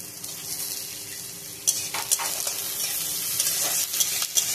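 Chopped onion and garlic sizzle steadily in hot oil in a pan, with sharp scraping stir strokes cutting in from about halfway through, close up and without voices.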